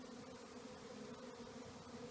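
Honey bees gather and buzz outside the hive while being moved from a nuc box into a deep, a steady, faint drone with no voices over it.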